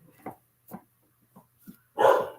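A dog named Tyler gives a few short, sharp barks spaced apart, then one louder, fuller bark at the end, fairly close in an otherwise quiet room.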